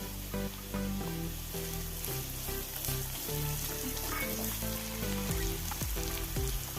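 Green peas stirred into oats upma frying in a pan, a steady close sizzle with scraping stir sounds throughout, no voices.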